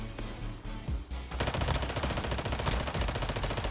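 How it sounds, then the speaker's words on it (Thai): Hip-fire gunshots in Call of Duty Warzone Mobile, a few single shots followed by a rapid sustained burst of automatic fire, loud and close. "นี่คือการยิงฮิปไฟของผมเอง"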